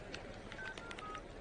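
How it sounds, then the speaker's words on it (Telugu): A telephone number is dialed in a Telugu film scene, with a short run of distinct keypad tones beeping one after another over steady background noise. "కావాలంటే ఫోన్ చేసి ఇస్తాను, అడగనన్నా."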